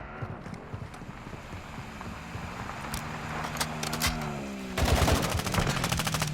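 Gunfire in the Call of Duty video game rattles in bursts, with scattered shots early and a dense rapid automatic volley near the end over rumbling ambient noise.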